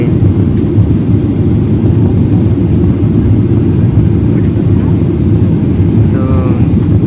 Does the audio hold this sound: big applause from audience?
no